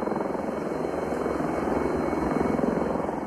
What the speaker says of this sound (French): Des hélicoptères Tigres qu'on voit déjà survoler la zone.